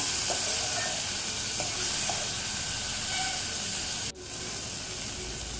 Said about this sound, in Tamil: ரெண்டு தக்காளி வந்து பொடியாக கட் பண்ணி வச்சுருக்கேன் செத்திக்கலாம் செத்திட்டு நல்லா கலந்து விட்டுறலாங்க